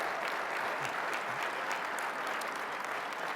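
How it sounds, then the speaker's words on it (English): Steady, dense applause from a large conference audience, loud and continuous throughout with no pauses. "Come on and give them a round of applause"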